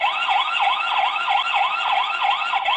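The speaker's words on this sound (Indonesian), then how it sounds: "CCTV ini juga sudah ada sirine alarm. Kita dengerin suaranya." A loud, shrill electronic siren from a wall lamp CCTV camera wails in rapid repeating sweeps, continuous and close-up.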